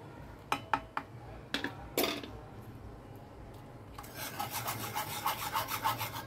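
A spoon scrapes and rasps inside a pot as a milk powder and cornflour slurry is stirred into milk. A few sharp scrapes come first, then a quieter gap, then a longer run of rhythmic, close-up stirring strokes.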